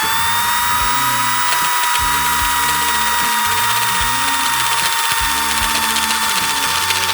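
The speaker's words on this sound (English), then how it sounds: "It's a slow process to get a good notch without galling out your hole saw." A hole saw notcher cutting a notch in a steel tube, fed slowly with light pressure, gives a steady grinding, chattering cut with repeated rhythmic dips as the saw bites and eases, loud and continuous with no talking.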